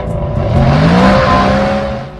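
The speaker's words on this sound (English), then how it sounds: "delivering a huge weight saving, power gains, and the all-important engine roar" Mercedes engine fitted with a Prindiville stainless steel or titanium sports exhaust, roaring loud and close in a steady rising rev with a sweeping whine, alone without talk.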